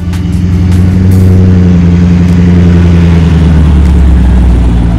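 A loud supercharged GM LT4 V8 in a restored Land Rover Defender 110 rumbles steadily with a deep, throaty tone, holding a high rev throughout.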